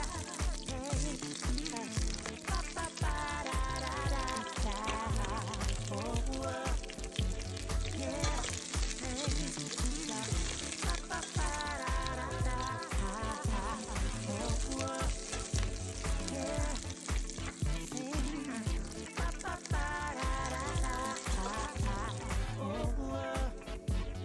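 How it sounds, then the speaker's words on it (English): Mixed herbs roast in a hot pan for a Khmer sauté of chicken gizzard and liver, crackling and sizzling loudly and continuously up close, with occasional stirring scrapes. "For better flavors, I am roasting these herbs all together."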